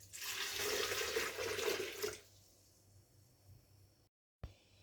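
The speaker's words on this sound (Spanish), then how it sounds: "Le agregamos medio litro de agua" Half a liter of water poured into a food processor, a steady splashing pour for about two seconds, then near silence with a brief knock near the end.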